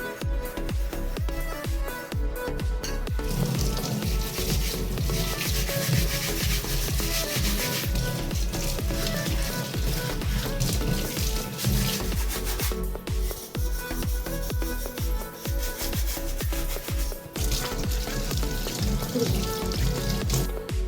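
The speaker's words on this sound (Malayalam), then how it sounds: "സോപ്പിട്ടിങ്ങനെ ഇങ്ങനെ ഇതുപോലത്തെ സ്ക്രബ് ഇട്ട് നന്നായിട്ട് കഴിയാൽ മതി" Soapy scrubber rubbed hard over a metal sieve, a steady gritty scraping in repeated back-and-forth strokes, close and continuous for the whole stretch, with no talking.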